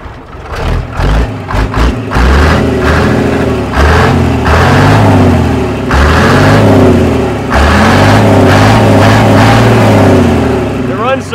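A 1950s Mack truck engine runs close and loud, its deep rumble rising and falling through several strong revs with brief dips between them.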